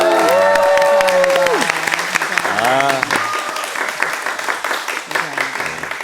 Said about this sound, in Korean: 방청객분들의 박수 소리로 힘이 납니다